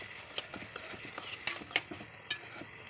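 Tomatoes sautéing and being stirred in a pan for a paneer masala, with a series of scraping and clinking stir strokes over a soft background sizzle, fairly close and alone.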